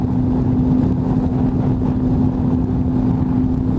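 Loud, steady roar of wind buffeting a rider on a Triumph Tiger 800 motorcycle on a highway, the gust blasting the helmet microphone with constant low rumble and engine drone throughout, no speech.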